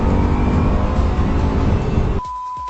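A road car carries a passenger on a ride at the Nordschleife, its engine a loud, steady close-up drone that cuts off abruptly near the end into quiet cabin noise.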